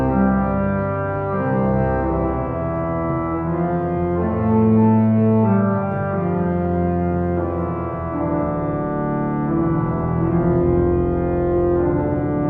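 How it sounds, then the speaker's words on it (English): Full pedal division of a church chancel pipe organ sounds thick, sustained chords rich in overtones, moving slowly between notes at steady, loud volume with no voices. "The full chancel pedal, which everything else is borrowed from the rest of the chancel organ, sounds like this."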